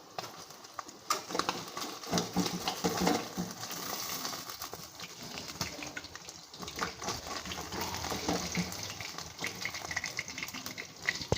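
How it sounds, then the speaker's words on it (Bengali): Aar fish frying in hot oil spatters with irregular crackles and pops, fairly soft and continuous over a hissing background. "খুব ফাটছে মাছগুলো"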